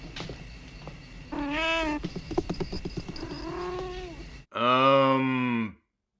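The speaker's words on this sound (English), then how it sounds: "Cat scare?" A cat's yowl delivers a jump scare in the horror movie Warlock: a loud, drawn-out wailing cry bursts in alone near the end, after a stretch of tense film sound with a shorter harmonic wail and scattered clatter.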